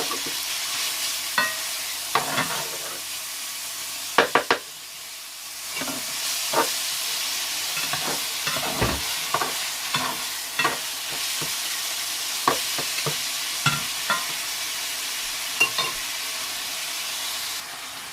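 Minced pork stir-fried with garlic and oyster sauce in a wok, a steady sizzle and hiss broken by repeated clanks and scrapes of a spatula, close and fairly loud, with no talking.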